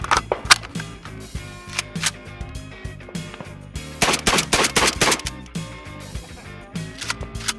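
A shotgun fires a rapid string of Winchester shells through a full magazine, each blast loud and close with sharp repeated reports and brief gaps as the action cycles.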